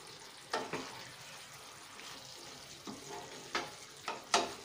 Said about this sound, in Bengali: আমি দিয়ে দিচ্ছি ছোট একটা টমেটো কুচি, হালকাটা আবার একটু নেড়ে দেবো।